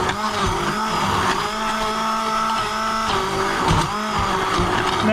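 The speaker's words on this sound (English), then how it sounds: "I'm going to blend it with an immersion blender" An immersion blender motor whirs continuously, its pitch dipping and rising as it churns through thick potato soup.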